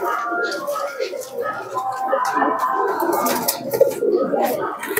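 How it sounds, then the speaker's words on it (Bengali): A male Kaldoma pigeon coos in soft, rolling, repeated calls close by, heard beneath someone talking. "দেখুন এ হচ্ছে নর পায়রাটা।"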